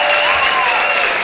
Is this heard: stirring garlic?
no